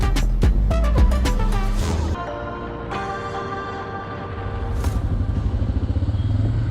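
A motorcycle ride near Al-Qurna in southern Iraq, the engine rumbling close with clattering thumps and shifting tones, running steadily without speech.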